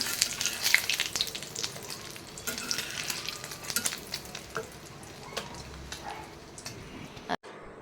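Eggs frying in a pan in a home kitchen during breakfast preparation, with a steady close sizzle and crackle throughout, punctuated by scraping and clattering of utensils before it cuts off abruptly at the end.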